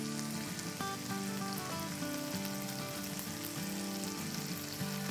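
Mutton masala frying in a pan as yogurt goes in, a steady soft sizzle with faint crackling throughout, fairly quiet and close, no talking.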